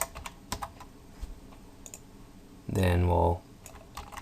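Light clicking of keys on a computer keyboard while coding JavaScript conditionals, soft scattered taps close by, with someone briefly speaking midway over them.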